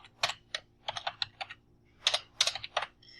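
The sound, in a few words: typing a file name on a computer keyboard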